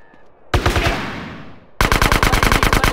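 Gunfire in GTA San Andreas: a burst of rapid shots rings out, a short pause follows, then a sustained fast automatic volley of evenly spaced loud reports.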